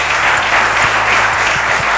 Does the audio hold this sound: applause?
yes